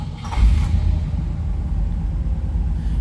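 A 1960 Cadillac Eldorado Seville V8 catches and starts up, then settles into a deep, steady low rumble close by.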